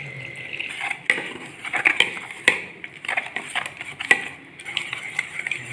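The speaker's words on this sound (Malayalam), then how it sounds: "ഇനി നമുക്ക് വെള്ളം ഒഴിച്ചിട്ട് നന്നായിട്ടൊന്ന് കലക്കി കൊടുക്കാം" Water is poured into flour batter, followed by vigorous mixing, with repeated clinks and scrapes of a utensil against a bowl in an irregular rhythm, close and fairly loud.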